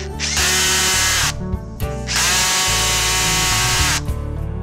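A power drill drives a Weiner screw into chipboard in two long, loud whirring bursts close to the microphone, separated by a short pause and ending with a brief clicking spin.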